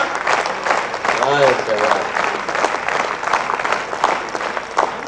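Audience clapping at a kavi sammelan poetry recital at Jaypee University of Engineering & Technology, a loud, steady crowd applause with a voice briefly heard over it.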